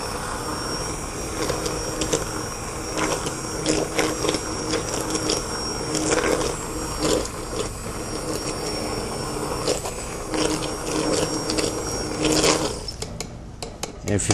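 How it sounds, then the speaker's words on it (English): A hand blender whirs through tomato basil soup, a busy mechanical buzz with gritty, uneven churning that runs for many seconds, close and fairly loud, before trailing off at the end. "And get another zap with the hand blender."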